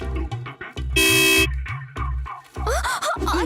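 A vehicle horn gives one loud, sustained half-second blast in a neighborhood street scene, set among rumbling engine or background noise with other short tonal sounds before and after.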